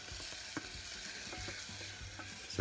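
Pork chop frying in a pan, giving a soft continuous sizzle with occasional light crackles and stirring scrapes, fairly quiet and close, with no talk.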